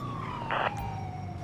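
A police motorcycle siren in the video game GTA 5 wails steadily at mid volume over the low rumble of traffic and engines, with a brief harsher burst partway through and no talking.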